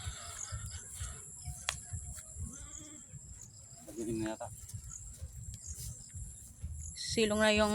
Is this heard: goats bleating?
yes